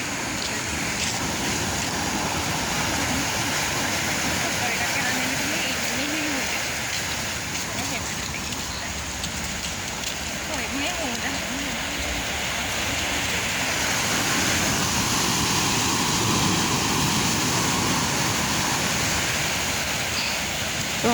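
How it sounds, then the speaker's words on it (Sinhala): Sea surf on a beach on Sri Lanka's southern coast rushes steadily and loudly nearby, a continuous wash of breaking waves mixed with wind noise throughout. "ඔයාලට මුහුදේ සද්ද ඇහෙනවා ඇති."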